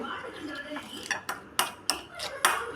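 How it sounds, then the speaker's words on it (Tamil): A spoon clinks and scrapes against a bowl while sambal ingredients are mixed with curry leaves, salt and lime juice, giving a handful of sharp, irregular knocks over a quiet background. "போட்டு எல்லாத்தையும் நல்லா மிக்ஸ் பண்ணிடுவோம்"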